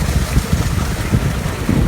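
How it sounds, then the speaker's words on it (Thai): Strong wind gusts across open rice fields in the middle of a city in Taiwan, a loud, buffeting roar that thumps against the microphone in uneven pulses, with no voices. "โอ้ลมพัด"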